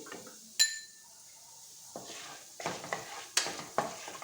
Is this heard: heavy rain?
no